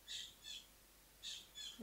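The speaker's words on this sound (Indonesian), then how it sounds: "di sini tuh seru kalau pagi gue senang dengar suara burung" Birds chirp outdoors in the morning in four short, faint bursts of high, twittering calls separated by quiet pauses, with no talking.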